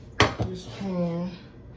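Two sharp metallic clanks as a cooking pan is set down on the stove, followed by a short ringing hum that fades away.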